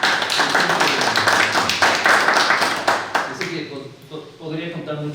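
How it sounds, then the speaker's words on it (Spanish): An audience claps for Marcelo at a gathering, a dense burst of applause that thins out after a few seconds as a person begins talking over the last scattered claps. "gracias por ese aplauso"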